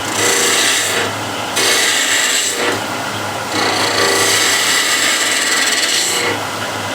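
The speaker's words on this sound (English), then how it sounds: "now I just want to get the shape down, and I'm going to use the skew again." A skew chisel cuts a wooden bowl turning on a lathe, giving a close, loud scraping rasp in repeated passes with brief pauses between cuts.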